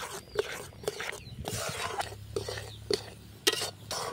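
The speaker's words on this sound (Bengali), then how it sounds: "এরপর ভালো করে লবণটাও মিশিয়ে নিচ্ছি" A spoon mixes salt and sugar into ground mustard for homemade kasundi, giving a steady series of light, regular clinks against the bowl about twice a second, with soft scraping in between.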